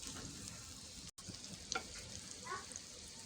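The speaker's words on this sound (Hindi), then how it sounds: "घी ऐड करने के बाद इसे हम अच्छे से भून लेंगे।" Semolina and grated bottle gourd roast in ghee for lauki halwa, giving a soft steady sizzle with light scraping and stirring clicks, close and moderately quiet, with a brief dropout partway through.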